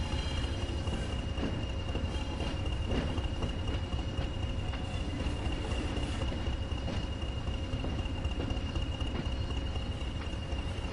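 Continuous rumble of a train shunting in Train Sim World 2 on the Tees Valley line, with rhythmic clanking and wheel knocks and a steady engine hum throughout, no voices.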